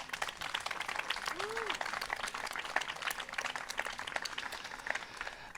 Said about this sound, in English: I want to have a very big round of applause for all these wonderful guests at the table tonight.